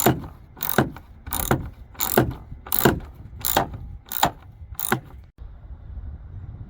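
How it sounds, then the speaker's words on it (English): A hand ratchet clicks steadily while removing Torx T20 screws from a 2007 Lincoln Navigator tail light, about eight rapid bursts of close, loud clicking in an even rhythm before stopping. "remove two torx T20 screws, one here on the top and one down here on the bottom"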